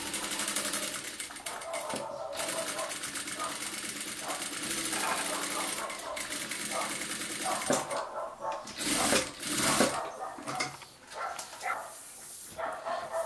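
A sewing machine stitching a seam on a fabric pouch, its needle whirring in fast mechanical runs with brief pauses, while someone talks intermittently and a dog barks faintly in the background.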